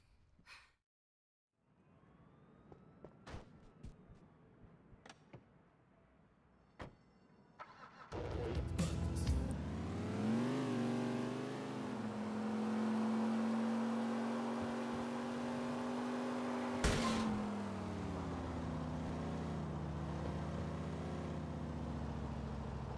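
A car in the GTA IV video game cranks over after a few scattered clicks and knocks, then its engine catches and settles into a steady, loud drone as it drives off, with no one talking.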